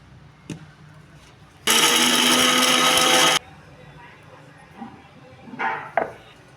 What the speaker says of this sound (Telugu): ఇప్పుడు ఇది మొత్తం మెత్తగా మిక్సీ వేసుకుందాం